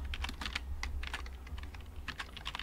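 Close, rapid tapping on a computer keyboard while JavaScript code is written for a Chrome extension, with irregular clusters of light key clicks and no voices.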